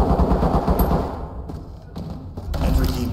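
Gunfire in the tactical shooter Ready or Not, loud bursts of shots and heavy thuds packed densely through the first second, then thinning to scattered reports with dips between, ending in another strong burst, no talking.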